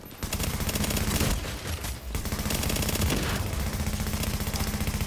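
Rapid automatic gunfire from a multiplayer shooter video game rattles in dense, continuous bursts, loud and close, with a brief lull near the middle before the firing resumes.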